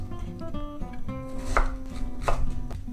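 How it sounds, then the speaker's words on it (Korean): A knife cuts through a fresh pear on a cutting board while preparing pear kkakdugi, two crisp, sharp chops landing close and clear over a low background hum. "배를 이렇게 반 갈라서 그 다음에 먹기 좋게 등분을 하겠습니다."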